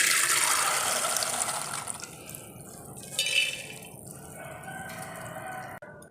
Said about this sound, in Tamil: மூழ்கிற அளவுக்கு தண்ணி ஊற்றியாச்சு.